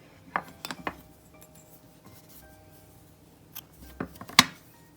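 Scissors snip through yarn with a handful of sharp metallic clicks, a quick cluster at the start and more near the end, in an otherwise quiet room.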